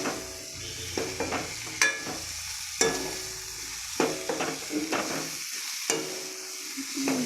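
Tomatoes frying in a pan, with a continuous soft sizzle broken by repeated sharp stirring scrapes and clinks of a utensil against the pan, close and alone.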